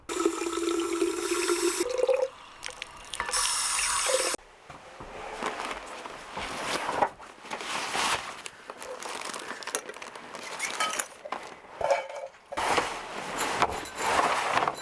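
Water runs from a tap at a forest shelter in two short gushing bursts, then gives way to quieter splashing, handling and rustling sounds nearby.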